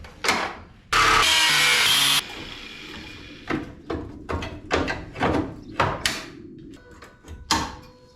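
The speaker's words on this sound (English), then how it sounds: "and we'll start cutting out the frame." Grinder cutting into a Jeep Comanche frame, one loud sustained grinding burst of about a second, followed by a series of sharp metallic knocks and clanks close by.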